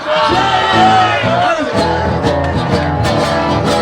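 Festival crowd at San Fermín in Pamplona shouting and whooping together, a loud, dense wall of voices with music-like harmonic layers running continuously throughout.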